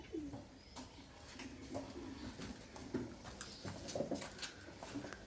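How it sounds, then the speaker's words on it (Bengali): Racing pigeons, about to be released for a race, coo softly and intermittently at a distance over faint rustling and background noise, with no talk. "আমরা চলে আইছি গড়া কবুতর নিয়ে কবুতর ছেড়ে দেবো"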